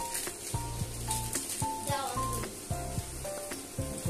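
Red meat with chili powder being sautéed in a pan, a steady sizzle running throughout with repeated scraping and stirring knocks, while a voice talks over it.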